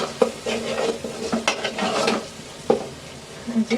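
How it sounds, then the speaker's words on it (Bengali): Onions and potatoes frying in a pan, with a close, steady sizzle broken by scraping stirs and occasional clinks of a utensil against the pan. "পেঁয়াজ এবং আলুগুলো ভাজা ভাজা হয়ে গেছে"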